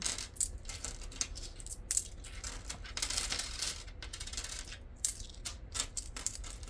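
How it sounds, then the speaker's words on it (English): Loose coins are sorted by hand to pick out pennies, giving close, bright metallic clinks and jingles in irregular bursts as the coins are shuffled and dropped. "So let me go ahead and sort through this and getting all the pennies out."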